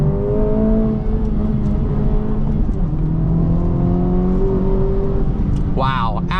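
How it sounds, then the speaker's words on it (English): A 2024 Acura Integra Type S four-cylinder engine drives under load with a loud, steady drone and rising and falling engine tones, a voice speaking briefly at the end. "Listen to the sound of this 4-cylinder."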